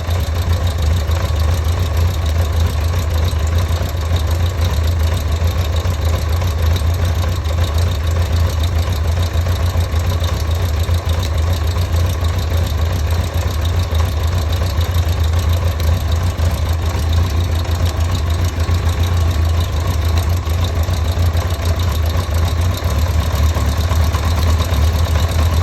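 A motorcycle engine idles while warming up, a loud, steady low rumble with a constant hum holding unchanged throughout, alone with no voices.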